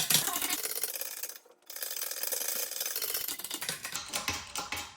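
A ratchet wrench turning a socket on a Honda Civic wheel hub, giving a quick run of close, loud mechanical clicking, a brief pause, then more clicking.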